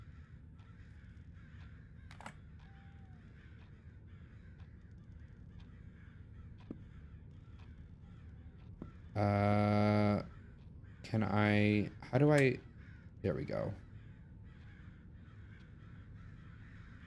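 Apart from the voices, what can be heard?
crows cawing outside, from the video game Summer of '58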